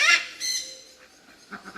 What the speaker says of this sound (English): You may have a duck or a goose?